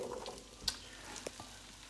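Two diced medium potatoes tumble into a pot of melted butter over low heat, giving a soft clatter and brief thumps over a steady faint sizzle.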